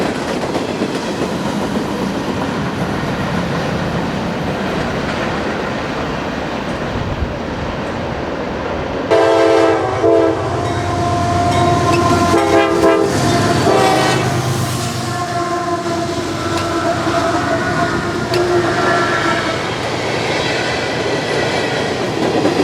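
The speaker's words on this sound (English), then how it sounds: "This cut of mixed manifest comes from the handful of customers left on the NS Norfolk District" A Norfolk Southern mixed manifest freight train rolls past on the Norfolk District in Virginia, its loud horn sounding in several blasts over the steady rumble and clatter of the passing cars, with no voices.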